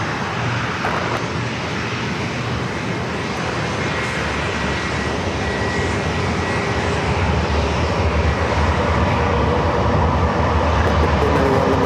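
A NetJets Cessna Citation Longitude business jet roars at San Diego airport, a loud, steady broadband engine rush with a faint whine running throughout and no pauses.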